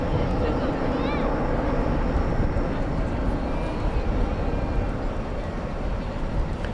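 A plane lands at night at DFW Airport, a broad, continuous engine rumble carrying on steadily at a distance while a voice talks over it.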